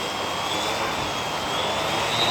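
A DIY autonomous drone's electric motors whine steadily at high speed as it takes off, a loud continuous buzzing drone with a faint rising tone and no talking.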